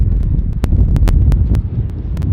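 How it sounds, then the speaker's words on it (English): Loud wind roars across the microphone in heavy, continuous gusts, with scattered sharp crackles and pops on top. "Whew, it's windy here today."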